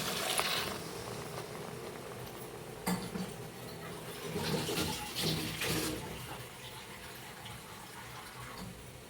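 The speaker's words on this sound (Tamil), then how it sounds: "இதில் தண்ணி கொஞ்சம் சேர்த்துக்கிறேன்." Water is poured into a simmering Tamil lentil-ball curry (paruppu urundai kulambu) made with tamarind water, a steady splashing pour with a couple of louder surges, close and alone.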